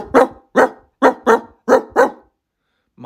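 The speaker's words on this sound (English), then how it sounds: "My God, that dog has seen some days." A dog barks six times in a steady run of sharp, loud, close barks, followed by a pause and the start of another bark, with no talking over it.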